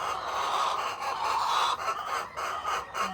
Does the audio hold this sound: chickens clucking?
yes